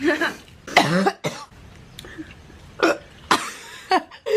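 A person coughs repeatedly in short, uneven bursts with throaty hiccup-like catches between them, close and fairly loud, several separate fits spread across the stretch.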